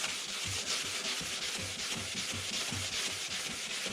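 Wet sanding a plastic headlight lens with 320-grit sandpaper, a steady close rubbing rasp moving rhythmically back and forth with no talking.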